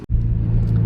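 A Nissan 350Z NISMO engine revs hard and holds a loud, steady high drone after a brief gap at the start, close and with no one talking.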